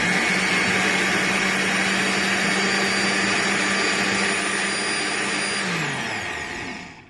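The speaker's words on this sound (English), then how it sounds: "leave a little in the blender, and add your fresh tomatoes and blend" A blender runs at full power with a loud, steady roar as it purées fresh tomatoes for Nigerian stew. The motor then winds down and cuts off near the end.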